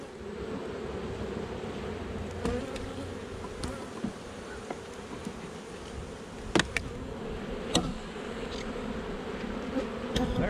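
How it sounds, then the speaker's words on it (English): Bees at a beehive buzzing as a steady, dense hum throughout, with occasional louder passes of individual bees close by. "Not a whole lot of bees."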